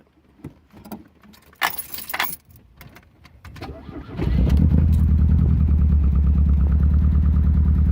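Keys jangle close by before a 1978 Fiat Spider with a recent misfire cranks and starts, then idles with a loud, steady low rumble.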